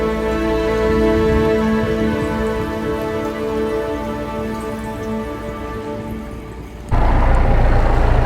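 A sailboat's engine idles at anchor on a calm morning before departure, a steady low humming drone with a rough, rain-like texture running throughout, close and continuous, growing louder and harsher near the end.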